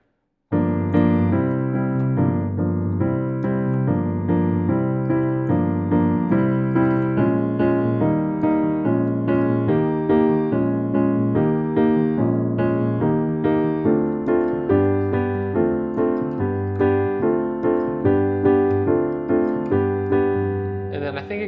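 Piano chords played in a steady repeating pattern, each struck chord ringing briefly before the next, with no voices.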